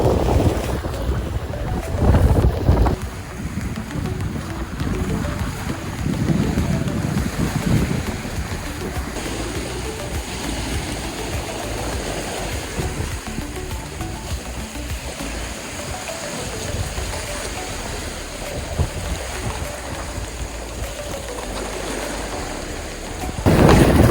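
Ocean waves rolling in from both sides and colliding off a long beach in Palau's Rock Islands: a steady, loud wash of surf mixed with heavy wind buffeting the microphone, unbroken throughout.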